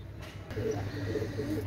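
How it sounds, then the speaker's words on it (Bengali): A pair of Pakistani Rampuri pigeons give low, soft cooing calls in short rolling phrases, close and fairly quiet, against a faint steady background hum. "প্রথমে একজোড়া পাকিস্তানি রামপুরি কবুতর দেখাচ্ছি"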